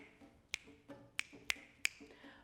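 Four crisp finger snaps ring out close and clear in a quiet indoor space, spaced unevenly over a couple of seconds.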